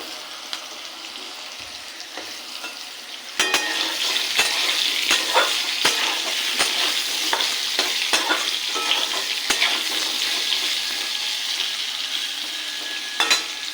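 Long-cut potatoes hit hot oil in a wok, seasoned with nigella seeds. A loud, continuous sizzle starts suddenly and carries on close-up, with repeated sharp clicks of a spatula stirring through it.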